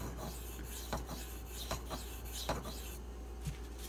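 A Spyderco Manix 2 knife drawn across a Pride Abrasive sharpening stone gives a steady, faint rasping scrape, with a few slightly louder strokes standing out against a constant low hum.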